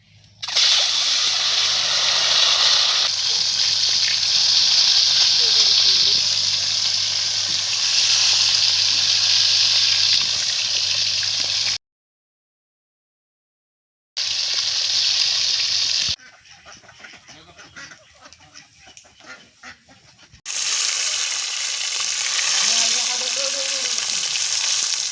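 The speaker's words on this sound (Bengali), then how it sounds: "এখনকার আমরা ভাজি নিব ডিমগুলা।" Beaten eggs fry in a hot pan for an egg and potato dish, giving a loud, dense sizzle that stops briefly, returns quieter with soft stirring, then swells back to full sizzling.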